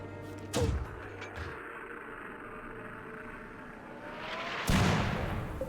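An incendiary round is fired in the video game RimWorld. A dull, heavy boom sounds early, a low rumble fills the gap, and a second broad thump follows a few seconds later.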